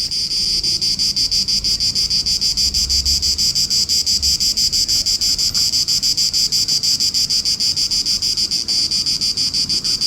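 Small insect chirping in a fast, steady, high-pitched pulsing trill that runs loud and close without a break, with faint wind underneath and no talking.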